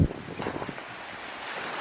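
Wind on a cloudy day in Auckland, New Zealand, buffets the microphone in a steady, rumbling rush with a slightly stronger gust at the start, close and continuous with no talking.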